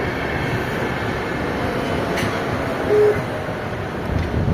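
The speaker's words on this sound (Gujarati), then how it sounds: "આ આપણી બસ ટ્રેન છે." A small passenger train rumbles steadily at a station in Finland, with a brief faint squeal and constant low mechanical noise throughout.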